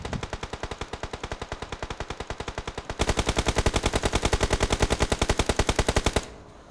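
Automatic gunfire in BGMI (Battlegrounds Mobile India) during a last-zone fight: a steady, rapid burst of evenly spaced shots that grows louder and closer midway, then stops abruptly.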